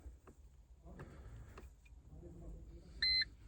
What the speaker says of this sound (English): and you'll hear a beep